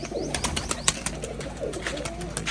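Pigeons at a fancy-pigeon loft in Rajshahi coo in low, repeated throaty notes close by, mixed with sharp wing claps and flutters and a few brief chirps.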